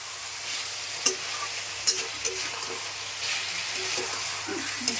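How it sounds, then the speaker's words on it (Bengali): Steady sizzling of a spice paste frying in a pan for chicken curry, with a few sharp stirring knocks and scrapes scattered throughout. "সুন্দর মশলা কষা হচ্ছে"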